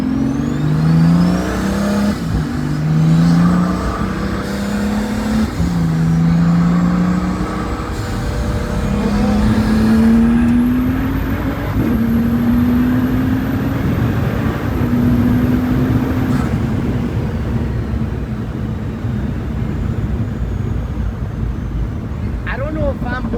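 A Pagani Huayra RBC accelerates at full power through its gears, the engine note climbing and dropping with each shift, loud and close from inside the cabin. Voices talk over the engine.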